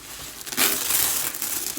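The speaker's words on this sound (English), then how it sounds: "There's more wrapping paper." Wrapping paper crinkling during a luxury makeup box unboxing, a close, crisp rustle with a louder crumpling burst midway, continuing steadily throughout without any talk.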